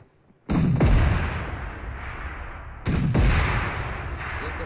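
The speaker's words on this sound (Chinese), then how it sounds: "这炮怎么轰不到啊？" Two heavy booms from a tank cannon in the mobile battle game PUBG Mobile, each a sharp loud blast trailing into a long rumbling decay, about two and a half seconds apart.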